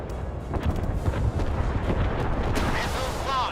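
Warship missile launches and impacts from the Force of Warships naval combat video game, a dense roaring rumble with booming blasts that swells throughout and carries on under a faint radio-style voice.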